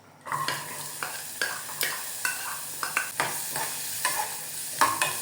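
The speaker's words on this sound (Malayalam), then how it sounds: "മറ്റൊരു പാൻ വെച്ച് അതിൽ കുറച്ച് നെയ്യ് ഒഴിച്ചു കൊടുക്കണം. ക്യാരറ്റ് ഇട്ട് കൊടുക്കാം." Carrots sautéing in ghee in a pan, starting abruptly with a bright sizzle and regular scraping stirs of a spatula about every half second, close and continuous, without talk.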